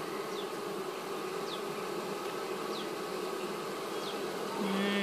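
Honeybees buzz and fan their wings at the hive in a steady, dense drone with a few passing bees whining close by, and the hum swells near the end.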